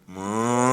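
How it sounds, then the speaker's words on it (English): A single cow moos in a long, rising, harmonic call that swells steadily louder through the clip, heard clearly with no talking. "Mooing."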